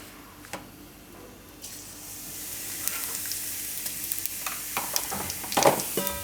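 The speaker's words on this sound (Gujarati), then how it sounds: "તો એમાં આપણે વઘારમાં નાખીશું અજમો" Ajwain seeds dropped into hot oil for tempering a Gujarati cabbage sambharo: quiet at first, then a sharp sizzle that swells and crackles steadily, close and loud, with a few stirring clicks and no talking.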